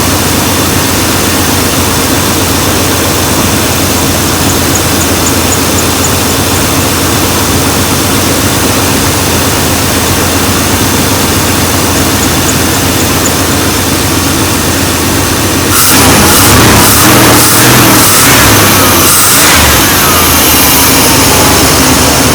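A 1990 Chevrolet Silverado with a 350 V8 runs steadily and loud for about fifteen seconds, then the engine revs harder with rougher, surging bursts toward the end.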